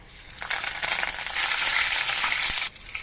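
Curry leaves hit hot oil in a kadai already holding dried red chillies and golden-browned garlic, bursting into a loud, close crackling sizzle that holds for about two seconds, then drops sharply away.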